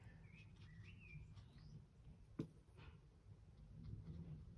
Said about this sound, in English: They are very cute birds, the robins though.